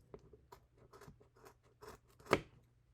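Scissors trim the braided end of a stock whip at close range, a few soft snips and crunches building to one louder, sharper cut near the end.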